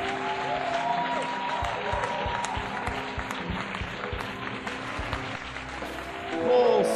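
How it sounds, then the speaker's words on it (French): A church congregation claps and cheers continuously, a dense crowd of applause with voices mixed in, swelling slightly at the end. "Au nom de Jésus, acclamons le Seigneur."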